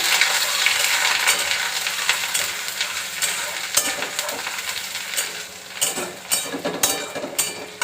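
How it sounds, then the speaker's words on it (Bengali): Steady crackling sizzle of chopped ginger frying in hot oil, with occasional stirring scrapes and clicks; no voices. "এটা একটুখানি ভাজা ভাজা আগে হয়ে যাক"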